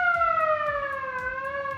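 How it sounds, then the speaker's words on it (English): Vintage car stop siren winding up, a close, loud, steady electric wail with tones sliding gradually downward over its short span, heard alone without talk. "So it has like a little stop siren here,"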